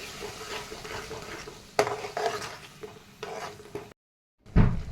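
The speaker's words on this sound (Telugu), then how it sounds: "ఇందులో మిక్సీ పట్టి పెట్టుకున్న పేస్ట్ని వేసుకొని మొత్తం ఒకసారి కలుపుకోవాలి" A spoon scrapes and stirs a thick ground spice paste in a pan for paneer gravy curry, with soft sizzling, a few louder scrapes, then a brief silence and one final knock.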